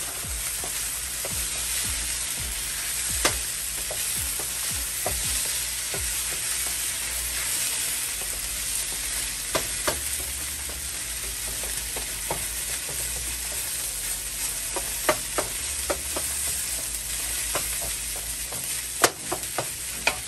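Seafood fried rice sizzles steadily in a hot pan while a spatula stirs it, scraping and clacking irregularly against the metal, close and fairly loud throughout.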